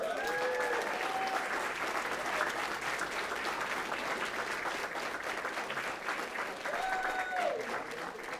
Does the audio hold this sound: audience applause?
yes